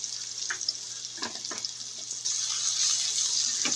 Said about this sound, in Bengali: পেঁয়াজটাকে এবার তেলের সাথে ভেজে নেব।